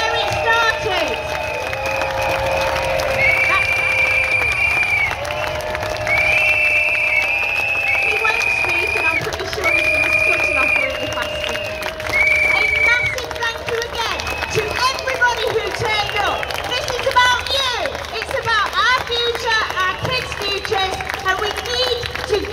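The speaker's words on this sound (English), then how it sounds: "I want to hear applause, screaming, shouting." A crowd at a street march in 2022 cheers, whistles and shouts continuously, with a voice over a loudspeaker talking through the noise.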